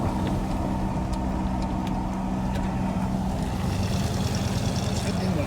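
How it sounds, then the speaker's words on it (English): A vehicle motor idles steadily to warm up on a cold winter morning, a constant low rumble that stays level throughout with a faint voice in the background. "It's the fact that the motor has to get warmed up, so I'm driving the motor."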